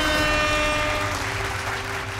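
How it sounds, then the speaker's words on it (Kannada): A studio audience on a Kannada television game show applauds in a loud, dense burst that stays steady throughout, with sustained music tones running underneath. "ಚಪ್ಪಾಳೆ"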